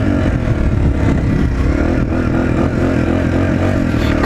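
A Suzuki DR-Z 125L dirt bike's small single-cylinder engine drones loud and close while ridden, its note rising and falling slightly as the throttle is varied, with wind rumble underneath.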